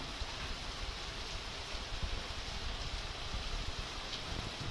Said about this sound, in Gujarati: ધોધમાર વરસાદ ચાલુ જ છે.